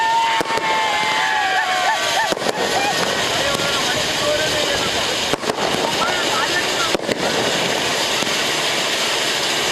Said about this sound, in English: Fireworks and celebration.